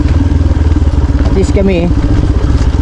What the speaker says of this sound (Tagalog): itulak yung motor na ang karga lang yung gamit namin